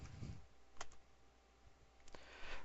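Typing on a computer keyboard, a few faint, sparse key clicks spread across a quiet background.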